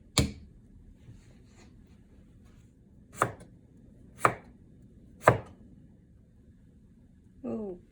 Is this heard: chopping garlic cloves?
yes